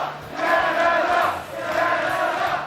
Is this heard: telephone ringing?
no